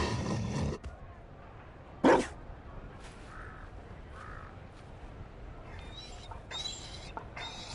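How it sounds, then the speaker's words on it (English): A Mabari war dog in Dragon Age: Inquisition gives one loud, sharp bark after a brief opening noise, followed by quieter background sounds and faint voices. "You found a dog."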